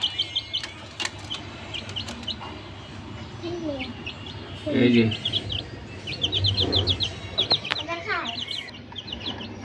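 Chicks peep in quick, high bursts around a farmyard, with occasional clucks, wing flaps and scattered background noises; voices come and go.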